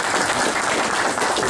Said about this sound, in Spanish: a recibir con fuerte aplauso.